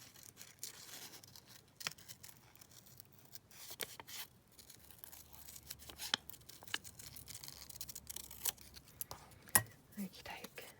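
Scissors cut a heart shape out of patterned paper in soft, irregular snips with faint paper rustling. Quiet and close, with light handling noises between cuts.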